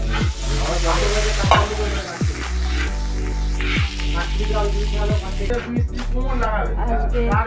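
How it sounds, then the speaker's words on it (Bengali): Water added to a pan with turmeric while cooking, producing a continuous close sizzle and bubbling with occasional stirring sounds throughout. "এখন আমি এতে জল দেবো"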